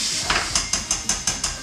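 A metal cooking pot clanks in rhythmic taps, about six sharp knocks in under two seconds, while beans are cooked, close and fairly loud.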